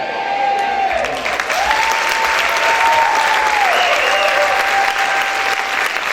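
A church congregation claps and cheers loudly and continuously, a dense wash of applause with raised voices and a whistle-like shout rising above it, sustained without a break.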